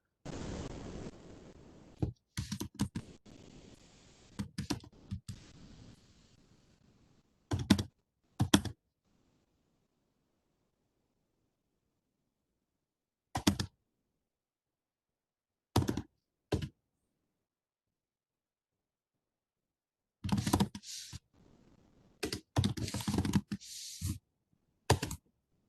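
Bursts of typing on a computer keyboard, clusters of quick close clicks and key taps broken by long silent gaps, clear and near with no voices.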